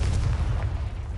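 A Confringo fire-blast spell explodes in a video game, giving one short, heavy, rumbling boom that fills the whole moment, up close and loud, with no voices.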